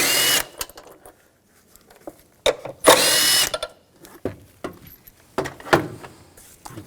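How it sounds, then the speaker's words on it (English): A power tool with a 10mm socket drives out two bolts on a 2000-2006 BMW X5, sounding in several short whirring bursts separated by pauses, close and loud, with no talk. "Take these two bolts out, use a 10mm socket."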